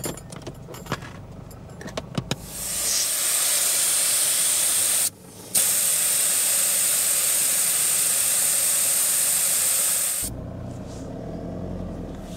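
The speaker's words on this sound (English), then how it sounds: "Now to let the tyres down and get on the tracks." Air rushes out of a vehicle's tyre as it is let down before a track drive, a loud, steady close-up hiss lasting several seconds with a brief break midway, framed by small metallic clicks and rattles.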